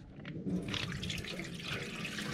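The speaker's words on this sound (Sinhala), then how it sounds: "හොදලා වතුර අරගෙන යන්න." Washing water drains off a batch of freshly rinsed crabs for seafood cooking, a close, continuous splashing pour like a tap running into a sink, with no talking.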